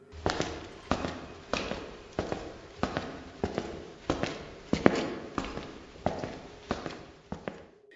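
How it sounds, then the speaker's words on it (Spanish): Steady footsteps, about a dozen evenly paced, hard-soled and fairly near, with no talking. "Momentos más tarde escuchó claramente unos pasos."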